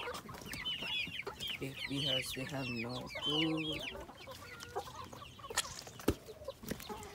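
Farm chickens clucking and squawking in a busy flock, fairly close, with a person speaking briefly over them.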